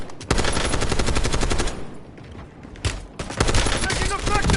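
Rapid automatic gunfire in Call of Duty: Warzone, loud and dense bursts filling the clip with a brief lull in the middle before firing resumes, with game voice chatter mixed in.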